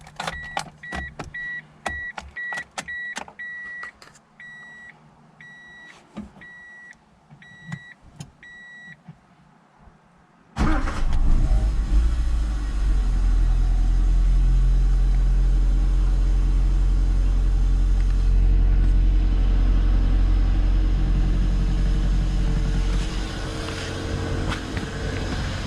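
A Mazda 121 sits with a few dashboard beeps and clicks before its engine cranks and catches, then runs at a steady, loud idle rumble close by for the rest of the clip.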